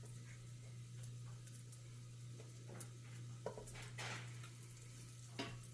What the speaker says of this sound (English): I think I'm going to get my garlic in there